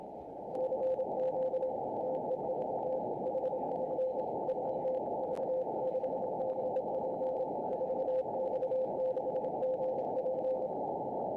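On amateur radio, Morse code CW signals, including a station from Russia, come through as a thin steady tone beeping in dots and dashes over a constant bed of band hiss and static.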